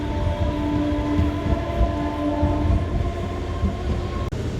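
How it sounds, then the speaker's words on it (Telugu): A MEMU express train runs steadily on a line between small stations, its continuous rumble and hum heard from inside the coach at an even, moderately loud level. "పుట్ల చెరువు నుంచి మన ట్రైన్ అయితే బయలుదేరిపోయింది"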